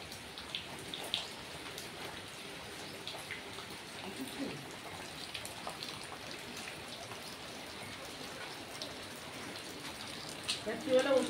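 Rain falls steadily on a rainy, stormy day, a soft, even patter of drops on surfaces heard at low level, with faint indistinct voices in the background.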